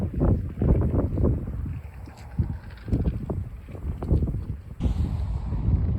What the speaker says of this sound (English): It's pretty windy.